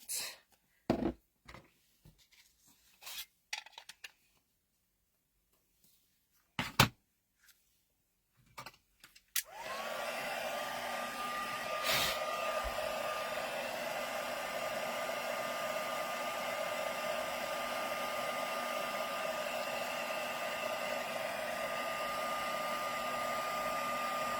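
An electric heat tool blowing to heat set a Halloween craft card, first a few scattered handling clicks and taps, then a steady close whirring hum of the blower that runs continuously to the end.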